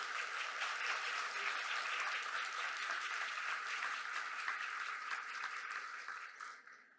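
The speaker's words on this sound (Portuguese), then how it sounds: "Palmas para a professora." A room of people applauds a professor at the opening of the Por um Fio event, a dense, even wash of clapping that holds steady and fades out at the end, fairly quiet overall, with no voices.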